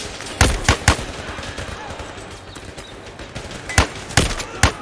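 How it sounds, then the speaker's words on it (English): Enemy gunfire in the video game Zero Caliber, sharp bursts of shots in two clusters separated by a quieter gap, loud and close. "but they're currently shooting at the teammates."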